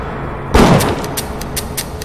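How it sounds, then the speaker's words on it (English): One close pistol shot cracks out in the video game Bioshock, leaving a short echoing tail and a few faint metallic clicks afterward. "let's use the pistol for this."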